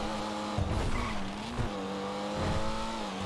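A car in GTA Online drives with a steady tonal engine drone and repeated tire squeals as it skids, several screeches across a few seconds over the continuous motor, with no talk.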